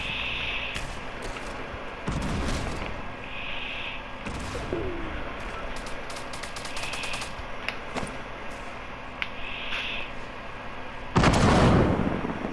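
Fortnite gunfire crackles in scattered bursts and single sharp shots, some near and some distant, over a steady bed of game ambience with chirping tones, ending in a louder close burst.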